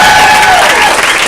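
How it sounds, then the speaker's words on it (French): Brief, loud applause from a comedy club crowd, thick clapping with a high whistle or cheer gliding above it, tapering slightly near the end. "je vous demande d'applaudir très fort"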